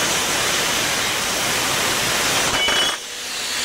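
A torch on a waterjet prototyping setup cuts sheet metal with a loud, steady hissing roar that fills the clip, ending abruptly near the close with a short ringing tone before the noise drops.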